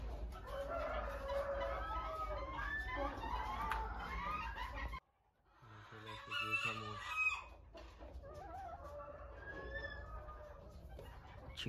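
Oo Shamo chickens crow and cluck repeatedly in a farm yard, several birds calling over one another at close range, with a brief lull midway before the crowing resumes; a voice speaks faintly in the background.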